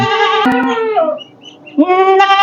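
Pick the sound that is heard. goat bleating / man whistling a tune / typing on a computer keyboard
goat bleating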